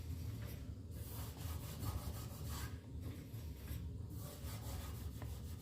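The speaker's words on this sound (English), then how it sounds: "I'm going to wax all of the surface of the table" Rhythmic back-and-forth rubbing as paste wax is worked by hand onto a new saw table surface, steady close swishing strokes with no talk.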